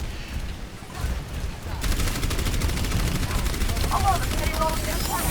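Rapid gunfire from the Overwatch video game aimed at an enemy shield: a dense, continuous crackle of shots comes in loudly after a quieter start and carries on with faint game effects in the background.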